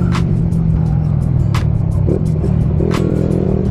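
A Yamaha Sniper 135 motorcycle engine revs loudly and steadily at close range, a constant low rumble with short, sharp bursts.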